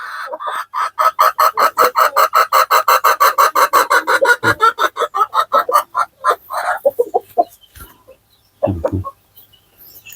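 Light Sussex chickens in a pen let out a rapid series of rhythmic, close clucks that slow and break into scattered calls toward the end.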